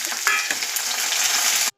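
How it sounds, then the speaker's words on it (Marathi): Oil tempering with cumin, mustard seeds, onion, curry leaves and peanuts sizzles loudly and steadily in a pan, a continuous crackling fry heard alone that cuts off abruptly at the end. "फोडणीसाठी तेल ठेवले आणि जिरे, मोहरी, नंतर कांदा, कढीपत्ता, शेंगदाणे असं घालून ते आता गुलाबी रंगावर परतून घेणार आहे"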